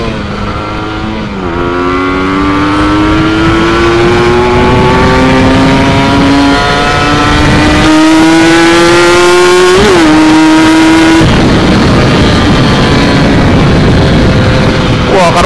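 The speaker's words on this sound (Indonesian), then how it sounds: "karburator besar itu kalau di over ada bunyi seperti itu ya" A motorcycle engine fitted with a large TM34 carburetor revs hard and close, its pitch climbing steadily through a long wind-up before a sudden shift into rougher, lower growl near the end.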